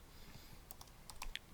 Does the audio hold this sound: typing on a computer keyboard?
yes